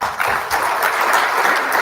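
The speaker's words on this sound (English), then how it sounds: "That deserves a clap." Conference audience at an orthopedics society meeting breaks into a brief burst of applause, a dense even patter of many hands clapping throughout.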